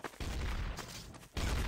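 Gunfire in Garry's Mod Trouble in Terrorist Town: a dense, loud burst of shots running nearly a second, a short gap, then another burst, with no talking.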